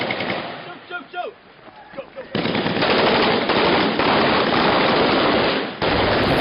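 Sustained automatic gunfire from soldiers in combat, loud and continuous after a quieter start with shouted voices, a dense rattling barrage running almost without pause.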